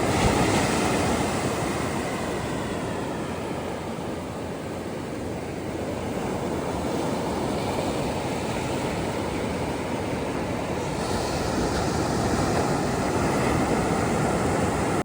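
Ocean surf washing onto a beach at Santa Cruz, California, a steady broadband roar of breaking waves with gentle swells, mixed with some wind buffeting the microphone, no voices.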